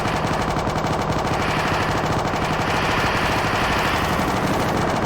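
Rapid, continuous pistol fire from a service pistol driven by an auto-clicker in the video game Carnal, a dense, steady stream of shots at high rate and constant loudness with no talking.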